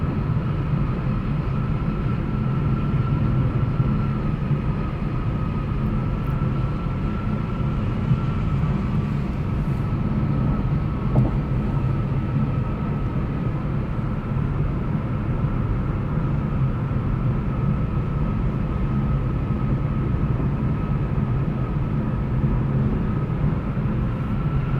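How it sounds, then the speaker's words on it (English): Steady low roar of tires rolling on concrete pavement heard from inside a 2019 Lexus LC500h, a continuous broadband drone with a faint whine above it and no talking. "We hear a lot of the road. You know, those are the tires on the concrete here."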